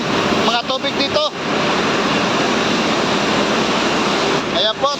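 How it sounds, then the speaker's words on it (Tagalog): Water pours over from a drainage canal onto the concrete floor inside a plant, a loud, continuous rushing roar. Someone speaks briefly over it at the start and again near the end. "umawas na yung tubig sa kanal, sumampa na sa simento"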